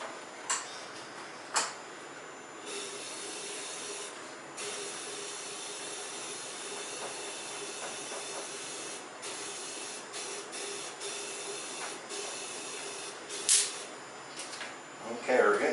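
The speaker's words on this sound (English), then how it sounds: "Turn the powder coating system on." A home-made powder coating system sprays inside a home-built booth, giving a steady, moderate hiss with a few sharp clicks and brief bursts near the start and end.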